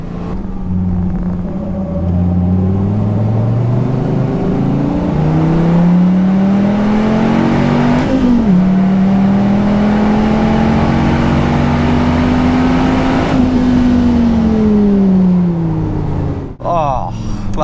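A Dodge Viper ACR race car's engine drones loudly and steadily on track, its pitch climbing and falling with throttle changes, with a brief break near the end.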